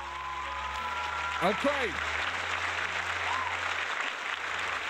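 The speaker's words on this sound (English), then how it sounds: "Let's clap it up." A live show audience applauds in a dense, even wash of clapping that holds steady throughout, while a voice speaks briefly and a brief tonal sweep passes over it.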